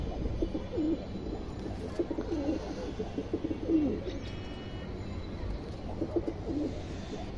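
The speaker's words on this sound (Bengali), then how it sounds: "খুবই সুন্দর কবুতর" Pet pigeons coo in soft, low repeated bursts from a loft or coop, several rolling calls spread across a steady background hum, fairly close, with no talking.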